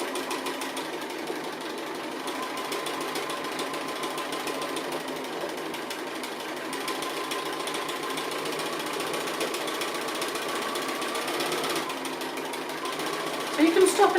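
A sewing machine stitches appliqué in a long, steady, rapid mechanical whir, running close and without a break. A few brief clunks come near the end.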